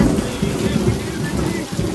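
Heavy rain pours down in Patan during a night storm, a dense, loud, steady roar with thunder rumbling low beneath it, continuous and close with no break.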